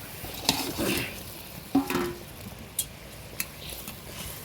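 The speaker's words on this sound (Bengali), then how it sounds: "এতে ভেজে রাখা মাছগুলো এবার দিয়ে দেবো।" Fried fish pieces go into a simmering fish curry of tomato, onion, ginger and garlic in a pan, giving soft sizzling and stirring with a few sharp clinks and splashes, fairly quiet and close, with no talk.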